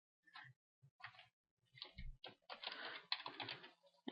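Keys on a computer keyboard clatter as a title is typed while editing a website, a few isolated taps then a quick dense burst of close clicking.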